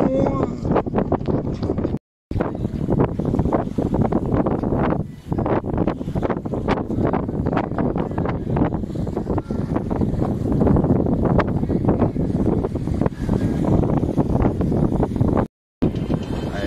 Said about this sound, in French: Le Cap Creux se rapproche, la mer est agitée. On a toutes les voiles dehors, il y a beaucoup de vent